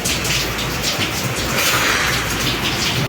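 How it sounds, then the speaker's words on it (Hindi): Heavy rain pours down in a dense, even hiss of countless drops, loud and close, holding steady throughout with no voices. "बारिश हो रही है बहुत ज़्यादा बारिश होगी ना तो इधर सुकून आएगा।"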